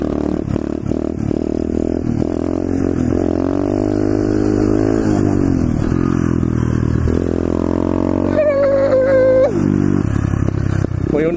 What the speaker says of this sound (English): My bike is freaking cruising right now, dude.